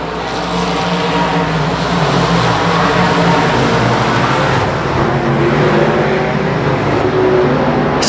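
Race trucks roar around a track at the 2018 Turkey Nationals, a dense, steady wash of engines at close range that swells in the middle and holds to the end with no talking.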